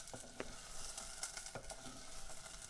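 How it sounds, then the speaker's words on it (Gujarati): Vegetables frying in hot oil give off a soft, continuous sizzle, with occasional light scrapes and taps from stirring in the pan. "તેલમાં ઘડીક સસડવા દીધા એટલે આમ કૂણા પડી જાય ને."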